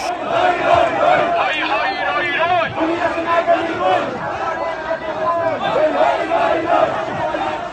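Thousands of people gathered in Jackson Heights, New York, cheer and shout in celebration, a loud, dense crowd roar with overlapping chanting voices rising and falling close by.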